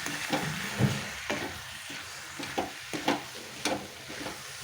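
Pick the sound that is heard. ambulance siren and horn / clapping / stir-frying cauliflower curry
stir-frying cauliflower curry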